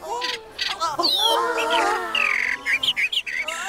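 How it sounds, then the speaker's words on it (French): Bright, twittering chirps and warbling trills of small birds, fairly close and continuous, with quick rising and falling notes. "on écoute le chant des petits oiseaux"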